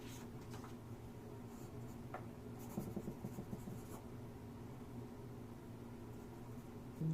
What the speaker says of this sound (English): 2H pencil or 2B pencil to put my signature.